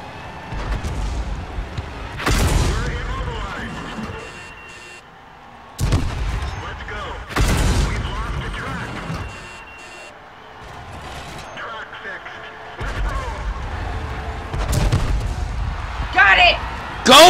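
Tank cannon shots in World of Tanks during a soccer-style match: several heavy, booming blasts spaced a few seconds apart, loud and close, with excited voices talking over the action.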